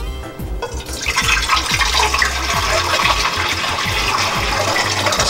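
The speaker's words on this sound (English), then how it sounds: "I'm gonna pour some water" Water pours steadily into a container while sea moss is being prepared, a loud continuous splashing rush that begins after a brief quiet moment and keeps going without pause.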